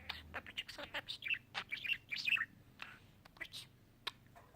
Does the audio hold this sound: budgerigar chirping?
yes